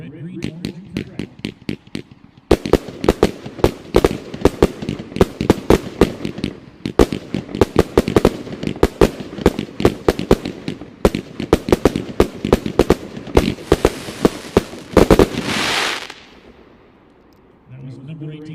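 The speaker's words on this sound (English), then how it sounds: "Here's 18, 49 shots, straight silver scattering with red, green, orange, and purple." An aerial fireworks cake firing 49 shots of silver scattering with red, green, orange and purple at an expo demo, loud sharp launch thumps and crackles in a rapid steady string for about fifteen seconds, ending in a dense crackling burst, then quiet.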